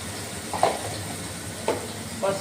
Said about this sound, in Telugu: అంతా బాగా పచ్చివాసన పోయేంత వరకు వేయించేస్తున్నాం.